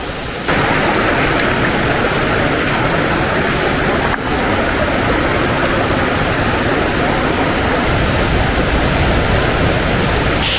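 Steady rushing flow of a river below the Puncak Manik waterfall in Ciletuh Geopark, Sukabumi, a loud, continuous broadband wash of water filling the whole scene with no pauses.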